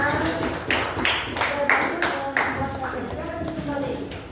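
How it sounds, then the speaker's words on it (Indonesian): Students in a classroom clap for a group, sharp rhythmic claps in a loose beat, with voices talking over them. "Terima kasih tepuk tangan untuk kelompok 1 ya"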